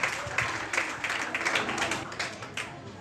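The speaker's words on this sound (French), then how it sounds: "Est-ce qu'on peut applaudir pour lui, s'il vous plaît?" A school spelling contest audience claps for a candidate at a departmental final, producing a dense, continuous patter of applause that holds at an even level for a few seconds, with no voices over it.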